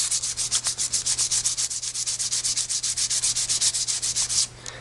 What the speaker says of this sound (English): you won't hurt the model with fine grit sandpaper, so you can go ahead and do some sanding